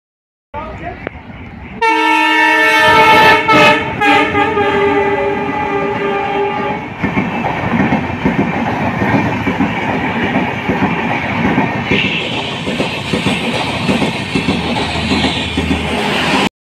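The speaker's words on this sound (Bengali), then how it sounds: "দেখো একটা থ্রু ট্রেন যাবে" A through train passes a station up close, opening with a long loud horn blast, then a steady roar of wheels and clattering wagons that continues to the end, with a voice faintly underneath.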